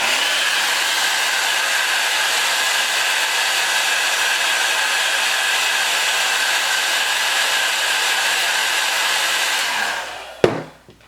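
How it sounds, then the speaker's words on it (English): A hair dryer blows a loud, steady whoosh while drying a wig, holding constant for about ten seconds before switching off with a brief clunk. "Let's see if I can dry it a little bit while it's on here."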